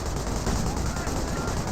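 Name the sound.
gunfire in Company of Heroes video game battle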